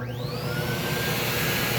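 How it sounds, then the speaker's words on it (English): A WAXIE Versa 2 wet vacuum motor starts up, its whine rising quickly in pitch and then settling into a steady, loud roar. "So now we're going to turn our vacuum back on."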